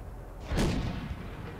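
A T-54 tank cannon fires in World of Tanks, one low, booming shot that swells, then decays into a rumbling tail over steady game ambience.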